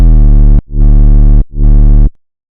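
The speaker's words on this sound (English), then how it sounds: "But then I added the distorted sub." Heavy, loud synth bass with a deep distorted sub, three sustained notes with short breaks between them, the low end booming and thick.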